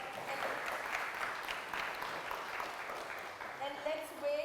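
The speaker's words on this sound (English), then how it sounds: "Please give a huge round of applause." Applause from an academic symposium audience after a speaker's introduction, a moderate wash of clapping that holds steady and then thins, with faint voices near the end.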